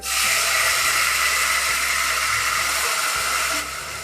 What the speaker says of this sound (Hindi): अब मैं इसमें डाल रही हूँ टमाटर। देखो सिर्फ मिर्ची, राई जीरा, टमाटर।